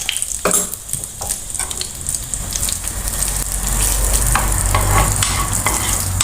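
Hing and dried red chilli sizzle and crackle in hot oil for a kadhi tadka, a steady close frying hiss with scattered pops and stirring clinks, no talk.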